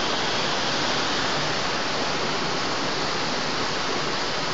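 Sewage water gushing from a drain outlet into a small hole on a street in Torre del Greco, a loud, constant, close rush of pouring water with no break.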